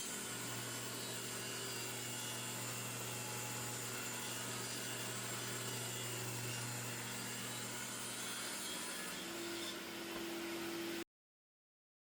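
A Bosch table saw runs steadily as its blade cuts through wood, a sustained whine with a low hum, the tone shifting near the end before cutting off.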